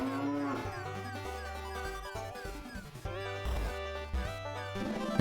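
A cartoonish cow mooing in the video game Part Time UFO, a series of low, tonal moos in short repeated phrases over light game music, fairly close and clear.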